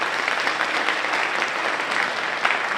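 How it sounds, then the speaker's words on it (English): Dense, steady applause from an audience at a digital marketing conference, a continuous even wash of many hands clapping close by for the full length with no pause. "can we all give Sherry a good round of applause?"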